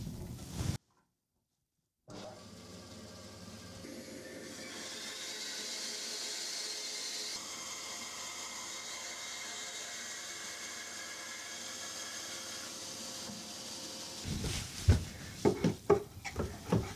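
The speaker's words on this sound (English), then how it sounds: "I'm going to get this cut out on the bandsaw and try and get it a nice snug fit." A bandsaw runs steadily with a whining hiss, cutting a wooden block for a vice, holding a sustained drone for about twelve seconds before winding down into scattered knocks and handling of the wood.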